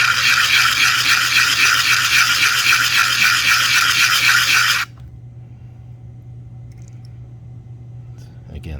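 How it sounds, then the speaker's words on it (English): Sandpaper rubs back and forth on copper pipe to remove a burr, a close, steady rasping scrape for about five seconds. It then stops, leaving a low hum and quiet room noise. "I'll sand just a little bit more."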